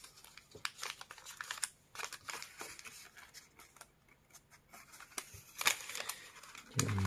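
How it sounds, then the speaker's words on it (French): Paper being creased and folded into an origami pivot fold for a Robert Lang hawk-wing conch model, with soft crinkles, taps and brushing scrapes coming in irregular bursts, close and fairly quiet, with no talking. "maintenant nous allons faire un pli pivot"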